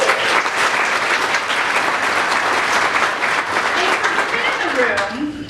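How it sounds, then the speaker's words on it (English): Crowd applause at a women in supply chain and logistics event, a full room clapping steadily and fairly loud, then tapering off as a voice starts speaking at the very end. "Can we get another round of applause for that?"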